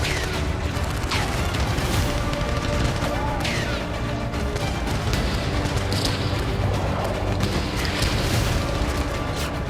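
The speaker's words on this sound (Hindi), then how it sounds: "तालिबान के कई इलाकों पर गोलाबारी की गई है।" Artillery shelling and explosions strike Taliban areas near the Iran border in Nimroz, Afghanistan, a dense, continuous roar of fire with repeated sharp bursts and thuds throughout.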